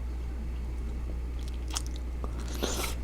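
Close, crisp crunching bites and chewing of a strawberry with a crispy coating, a few sharp crackles over a quiet background hum, no talking.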